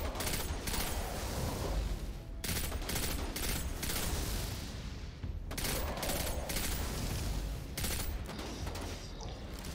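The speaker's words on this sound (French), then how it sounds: "Je vais essayer avec l'autre flingue, en mitraillant." An automatic gun in Destiny 2 sprays long strafing bursts, rapid shots rattling in dense runs broken by brief pauses, loud and sustained with heavy impacts and game effects underneath.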